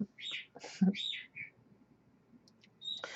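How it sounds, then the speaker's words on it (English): A pet bird gives a few short, bright whistled chirps close by, with quiet pauses between them and a final chirp at the end. "bird is whistling to you guys."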